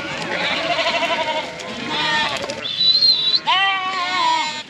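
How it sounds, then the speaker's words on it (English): Sheep bleat in a field, several wavering calls overlapping close by, with a loud clear bleat near the end. "Sheep."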